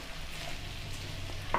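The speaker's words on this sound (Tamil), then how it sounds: "இது நம்ம பச்சையாக செய்கிறதுனால கொஞ்சம் ஃப்ரை பண்ணணும்." Raw mango pickle is stir-fried in a kadai, giving a low, soft sizzle throughout with a single small clink near the end.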